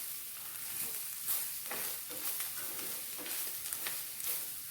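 Spices being stirred in a pan over a low flame, garam masala, pepper and turmeric for a cauliflower masala curry, giving a steady soft sizzle with faint scraping throughout and no voices.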